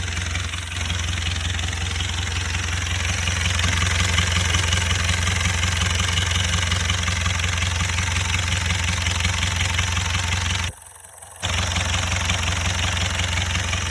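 A Mercedes-Benz C240 sits idling with a steady, smooth low drone, close and constant, briefly dipping quieter for a moment near the end.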